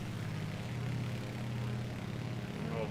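Propeller aircraft engines in a flight simulator, flying over Scotland near the Firth of Forth, drone as a steady, even hum throughout with no pauses.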